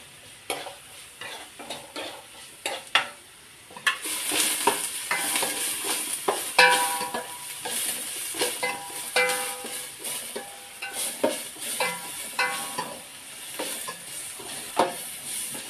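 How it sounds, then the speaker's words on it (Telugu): Green chillies and onions fry in garam masala paste for pulasa fish curry, a loud crackling sizzle with frequent spatula scrapes and clinks against the pan, growing busier partway through, with no talking. "పచ్చిమిర్చి, ఆనియన్స్ వేసి ఫ్రై చేసుకుందాం."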